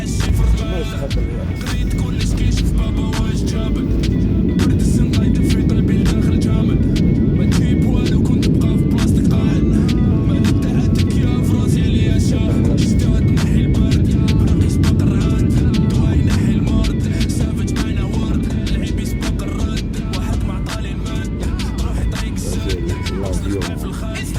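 An airplane at the airport in Costa Rica, a loud, steady broadband engine roar that stays close and constant throughout with no pauses, on a rainy day.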